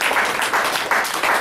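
A congregation at a church service breaks into applause, a dense wash of clapping that swells in waves.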